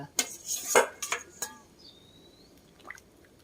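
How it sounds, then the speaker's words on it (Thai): Tilapia fish washed with kaffir lime and salt in a bowl, with a burst of wet clinking and rubbing at the start, a few splashy knocks, then quiet dripping. "เอามะกรูดล้างกับเกลือเนาะเกลือ"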